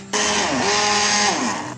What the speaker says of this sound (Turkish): Bunları blenderla e, tekrar yok edebilirsiniz.